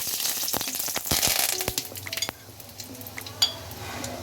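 Curry leaves hit hot oil with mustard seeds in a pan for poha and crackle loudly, sharp pops easing into a steady sizzle, with a few metal clinks from a utensil.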